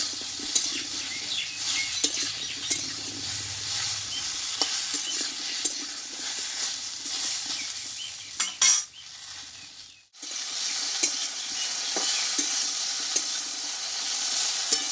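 Okra sizzles steadily in a hot pan for a vegetarian dish, with repeated stirring scrapes and taps throughout and a brief lull near the end before the frying resumes.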